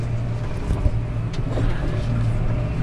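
A Massey Ferguson 7715S tractor pulling two grain trailers holds a steady, close engine drone with a low rumbling hum throughout, and no one speaks.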